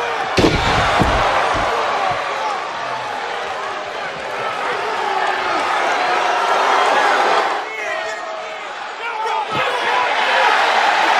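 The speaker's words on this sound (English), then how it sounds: "Lesnar continuing to just hammer away on Reigns with a chair." A sharp metallic slam of a steel chair as Brock Lesnar hits Roman Reigns on WWE Raw rings out near the start, followed by a couple more impacts, with an arena crowd roaring and a commentator talking throughout.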